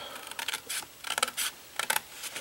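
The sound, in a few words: scissors cutting along a score line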